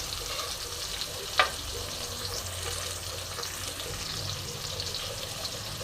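Bitter gourd and potato pieces frying in a pan with turmeric and salt, a continuous soft sizzle under occasional scraping stirs and one sharp clink of a utensil early on.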